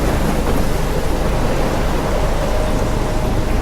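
A heavy storm in the Life is Strange video game, with rain and thunder blending into a loud, dense, unbroken roar with a deep rumbling low end and no voices.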